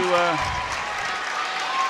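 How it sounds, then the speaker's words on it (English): A basketball crowd applauds and cheers during a Marlboro timeout in the 2018 Section IX final against Ellenville, a steady dense wash of clapping and noise behind a commentator's voice. "A round of applause for the Blue Devils for really making a comeback in the second half"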